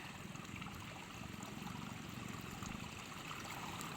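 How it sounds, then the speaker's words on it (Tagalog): Water flows steadily from a cold natural spring used for drinking water, a soft continuous trickle and gurgle heard alone at low level. "Ayan po ay bukal."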